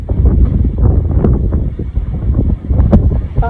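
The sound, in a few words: strong wind blowing outdoors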